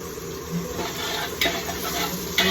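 Steady frying sizzle of onions in hot oil for tempering biryani rice, with occasional stirring scrapes and a light clink of a utensil, close up and continuous, no talking.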